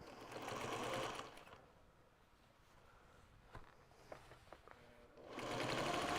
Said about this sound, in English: I'm going to finish stitching down the binding to the back of the quilt.